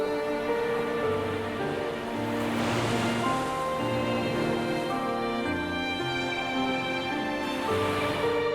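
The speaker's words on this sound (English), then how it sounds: "I know you enjoy the sound of the waves." Ocean waves wash in a continuous loud surf, a steady broadband rush layered under sustained musical tones throughout.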